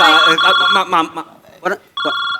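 A telephone rings in a home as repeated electronic bursts, loud and near, with people talking around and over the rings.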